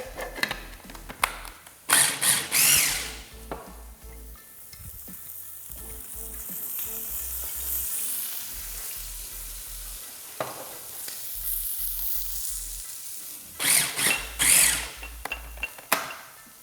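A food processor chopping herbs for chimichurri whirs in short pulsing bursts, with quieter clattering and scraping between the louder spurts.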